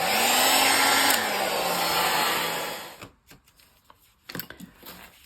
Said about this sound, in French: on utilise un sèche-cheveux et on met de la chaleur un peu sur les bords